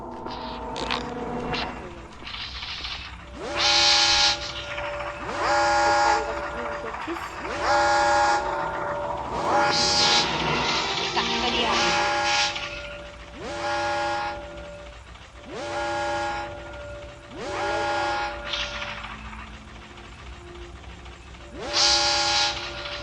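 A train in the video game Granny 3 sounds its horn in repeated long blasts between rumbling, mechanical rail noise, loud and close, with no one speaking.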